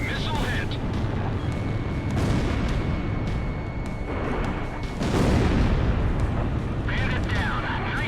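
A missile strikes an enemy aircraft in Ace Combat Zero with a heavy blast over a constant roar of jet engines and combat noise, the impact swelling loudly midway through.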